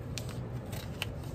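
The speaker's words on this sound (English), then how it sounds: "eyeball the center, and cut me a notch out" Scissors snip a notch out of a sheet of paper, a few quick, close cuts over a low background murmur, with no talking.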